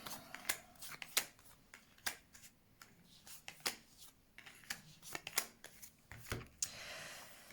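Tarot cards being shuffled and drawn by hand, a quiet close sequence of sharp flicks, snaps and slides spaced irregularly, with no talk.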